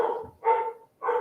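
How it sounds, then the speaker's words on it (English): A dog barks upstairs in a house in two or three loud, yappy bursts separated by short pauses, with no talk over them. "Can you hear my dog?"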